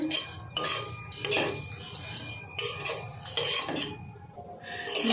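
Oats dry-roasting in a pan for paratha, stirred with a spoon: repeated close scraping and clinking of metal against the pan in uneven strokes, with no talk.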